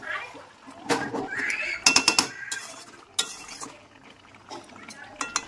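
Chicken kosha being stirred in a cooking pot, with a utensil scraping and clinking against the metal in irregular strokes, close and fairly quiet, and a faint sizzle underneath.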